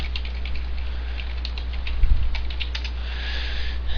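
Keys clatter in a steady run on a computer keyboard while an administrator login is entered for a Joomla website, with short bursts of light clicks over a low constant hum, close and moderately loud.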